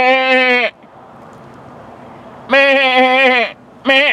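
Loud, drawn-out bleats at a goat farm in northern Utah come in two long calls and a short third, separated by brief pauses of outdoor background noise.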